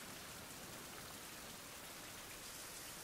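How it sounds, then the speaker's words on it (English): Steady rain pours down in a survival video game, a dense, even wash of falling water with no breaks, heard alone without any talk. "The rain must have washed me off."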